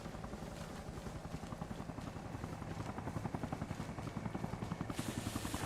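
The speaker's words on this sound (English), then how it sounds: "Is that an American heli?" A helicopter in a Jeep simulator video game beats with a rapid, steady rotor chop, fairly close and constant throughout, with no voices over it.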